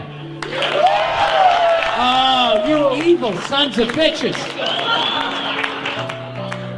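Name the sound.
audience applause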